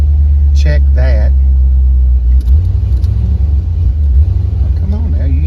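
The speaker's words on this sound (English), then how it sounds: "you ain't normally spit and sputter like that right off the bat" A 1986 C4 Corvette engine rumbles low and steady close by, its idle sputtering unevenly while someone talks over it.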